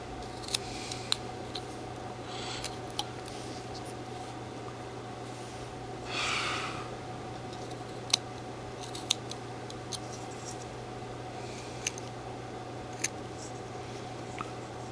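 A whittling knife cuts into wood while a miniature hiker figure is carved, sharp isolated clicks and snips spaced irregularly over a steady hum, with one soft breathy sound midway and no talk.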